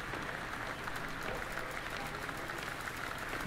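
Applause in the video game Detention, a dense continuous wash of many hands clapping in an auditorium, steady and fairly far, with faint voices mixed in.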